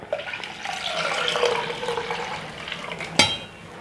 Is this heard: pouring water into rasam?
yes